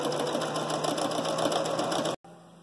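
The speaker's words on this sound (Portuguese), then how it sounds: "nós vamos passar uma costura aqui na bordinha em cima e aqui embaixo" A sewing machine stitches a seam along the edge of a fabric 3D face mask, a loud continuous rapid whirring run that cuts off abruptly near the end, leaving a quieter hum.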